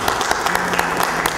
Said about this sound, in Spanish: un aplauso, por favor, para acá, para esta mesa.